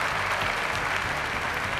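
Applause for contestant Nan, a mother sorting duck eggs on a game show to pay off debt, as an audience claps in a steady, dense roar that carries through the whole moment without a break.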